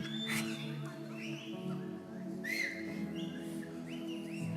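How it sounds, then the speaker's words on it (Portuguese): A person whistles on request inside a church, a few short rising and falling whistled notes standing out near and moderately loud over a steady background hum, with faint talk around. "Assobia, como é que é?"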